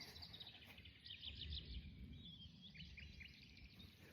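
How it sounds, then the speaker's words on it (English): Birds chirp outdoors on a still, muggy day with no wind: faint, scattered high tweets and short calls over a low background rumble, distant and quiet. "Can you hear the birds?"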